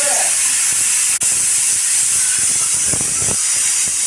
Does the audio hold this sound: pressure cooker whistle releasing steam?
yes